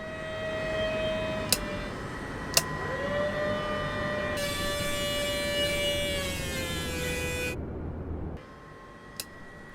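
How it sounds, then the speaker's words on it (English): In the MSFS simulator's Black Square Duke aircraft, the electric motors whine with a steady tone that slides in pitch and settles as they reach their stops, punctuated by a few sharp clicks, then a brief cut and a quieter tail. "The electric motors in this aircraft also change their pitch as they run up against their stops, providing important feedback"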